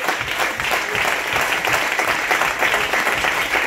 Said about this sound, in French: Je pensais que tu allais acclamer.